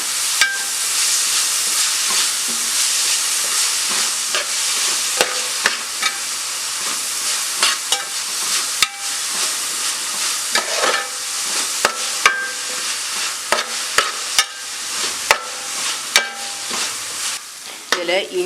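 Ginger, garlic, green chilli and onion sautéing in a pan for Malabar mutton curry, a steady broadband sizzle with frequent sharp scrapes and clacks of a spoon stirring against the pan throughout, no voices.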